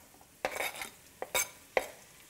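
Chopped rabbit meat is tipped into a pan of onions, giving a few close metallic clatters and scrapes of utensil against the pan with brief pauses between.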